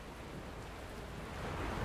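Steady rain hiss in the Motel Manager Sim video game, a broad wash of noise rising slightly toward the end, quiet and continuous with no voices.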